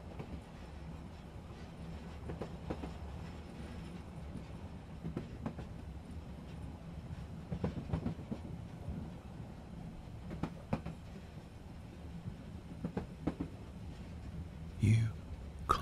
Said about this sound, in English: listen to the train cleaving on through the snow.